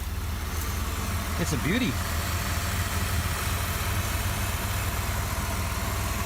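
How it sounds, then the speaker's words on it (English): A van engine idles steadily after start-up, a low continuous rumble running the whole time, with someone speaking briefly over it. "let's fire it up so you can hear the engine"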